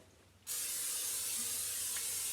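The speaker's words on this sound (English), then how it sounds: "So what I'm gonna do is I'm gonna use spray." Cooking spray hisses onto a frying pan in a home kitchen: a short burst that starts abruptly after a brief quiet moment and holds as a steady, close, bright hiss to the end.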